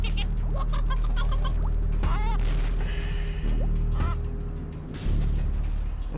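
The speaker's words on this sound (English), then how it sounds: "I'm gonna kill all the chickens now." Video game chickens clucking and squawking in quick bursts, mixed with game sound effects and crashes, while a person talks over them.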